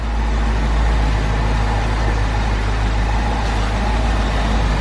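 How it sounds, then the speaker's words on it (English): A 2007 BMW X5 4.8i with the N62 V8 idles steadily, a low, constant engine drone with a faint whirring hum from a worn A/C belt tensioner pulley beneath it. "it's developed a noisy pulley that will change tone when you activate or deactivate the AC compressor"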